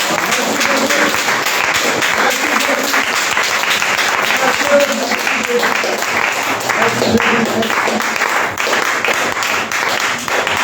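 A church congregation at a Sunday worship service claps and cheers loudly and continuously for several seconds, with voices calling out through the applause.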